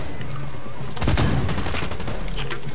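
Rapid bursts of combat rifle fire in Blacklight Retribution, a dense run of sharp shots that starts about a second in and continues over steady game noise.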